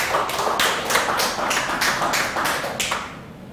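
A church congregation at a Wednesday service applauds together, a dense, loud burst of clapping that swells and keeps up a steady rhythm before fading out at the end.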